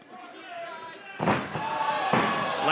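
A fighter slams to the mat from a lateral drop in a welterweight MMA bout, a loud thud under steady crowd noise and commentary, followed by a second impact.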